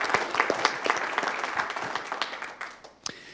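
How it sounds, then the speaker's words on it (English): A neighborhood council meeting audience applauds a departing officer, a modest room-sized round of clapping with individual claps audible, moderately loud and fading toward the end. "Let's give him a round of applause, please."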